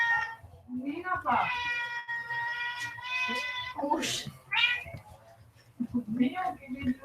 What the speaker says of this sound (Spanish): Tiene mucha hambre el gato, disculpe.